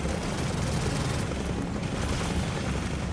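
A helicopter in the video game Gears of War 4 gives a dense, steady low roar amid battle rumble, loud and continuous throughout.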